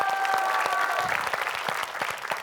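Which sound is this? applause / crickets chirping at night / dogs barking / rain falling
applause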